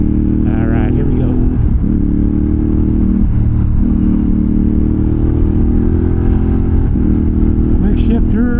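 X-Cape 1200 adventure motorcycle cruising on a bumpy freeway, a loud, steady engine drone with rushing wind and a slight rise in revs, the rider talking over it throughout.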